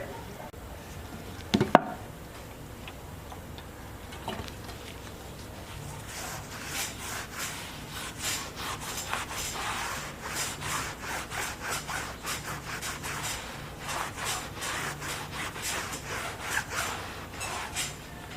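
A rag soaked in acetone is rubbed hard back and forth over a tire sidewall to clean it, giving rhythmic, scratchy scrubbing strokes close to the microphone after a brief sharp knock.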